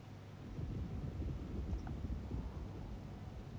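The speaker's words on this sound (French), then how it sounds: "Je surveille la tempête qui approche." A storm approaching in the video game Alone in the Dark: a steady, loud low rumble of thunder and wind-driven rain rolls on without a break, with no voices.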